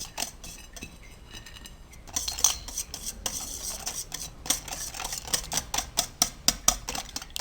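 Cardamom and dry fruits are stirred into egg halwa in a pan, giving a continuous close scraping and rasping of a spoon with sharper metallic clicks toward the end.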